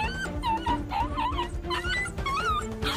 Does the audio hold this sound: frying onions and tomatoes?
no